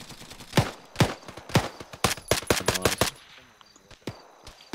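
Shooter video game gunfire: single shots, then a rapid automatic burst in the middle, then scattered quieter shots, all loud and sharp.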